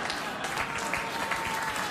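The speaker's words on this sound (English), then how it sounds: "You may well applaud, but you won't see it in the movie." A late-night talk show studio audience applauds steadily, a close, dense clatter of clapping throughout the short stretch.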